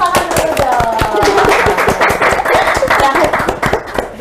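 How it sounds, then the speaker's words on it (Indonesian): Audience at a campus talk show broadcast claps in a quick, uneven patter close to the mic, with voices talking over the clapping throughout. "Tepuk tangan dulu dong."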